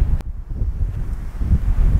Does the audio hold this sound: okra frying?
no